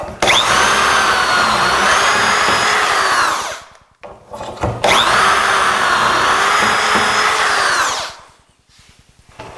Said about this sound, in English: Now at this point in time we're going to drill 1 and 2.